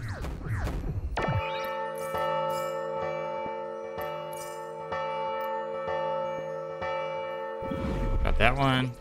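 Sustained ringing of a large bell in the video game Hauntii, its rich harmonic tones sounding loud and steady for several seconds after a sharp strike, with a voice talking briefly before and after.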